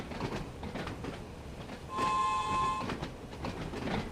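A simulated Island Line train in Train Sim World 2 rolls with the power off, its wheels rumbling and clicking steadily, while a horn-like tone sounds briefly midway.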